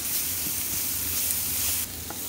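Already smoked meat sizzles steadily in a pan while cooking Georgian village-style lobio, a close, loud and continuous frying hiss with light stirring, with no voices over it.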